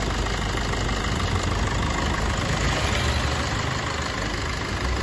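A 2019 Maruti Suzuki Vitara Brezza VDI diesel engine idles with a steady, rough, close drone that holds unchanged throughout, with no talk.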